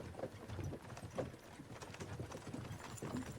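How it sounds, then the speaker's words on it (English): Horse hooves clip-clop at an unhurried walking pace in Kingdom Come Deliverance II, a soft, steady rhythm of muffled thuds over faint outdoor ambience. "don't you think maybe we could make the horses go a little faster?"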